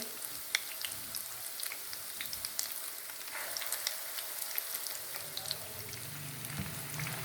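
Egg-coated kofta meatballs fry in a pan of oil, giving a soft, steady sizzle with scattered small pops and crackles, close and quiet, with no talking.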